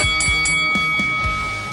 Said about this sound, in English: Now go back to the corner and come out fighting at the bell.